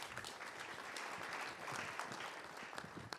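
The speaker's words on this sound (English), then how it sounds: "Big round of applause there too." A conference audience at a CEO business event in Sydney applauds in a steady, even wash of clapping that continues for a few seconds and sounds fairly distant and soft.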